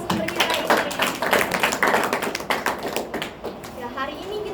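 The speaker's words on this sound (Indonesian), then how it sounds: "Beri tepuk tangan untuk ketiga narasumber kita ini." An audience gives applause for three guests at an indoor event, a burst of claps that thins out after a few seconds, moderately loud.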